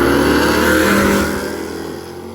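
A drag racing truck engine roars loudly and close during a pass at the Midwest Drags, holding a strong sustained rev before the sound eases off as it pulls away.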